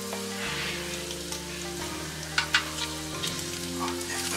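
Skin-on pork belly bacon sizzles and crackles steadily in a frying pan, a continuous close hiss with faint tool clicks and no talking.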